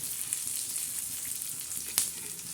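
Black masala for a chickpea lentil curry dry-roasts in a pan, giving a soft, steady sizzle and faint scraping with one sharper clink near the end, no voices.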